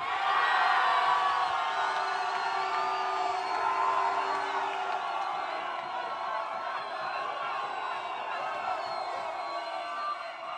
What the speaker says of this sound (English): It's very difficult because you're screaming very loud.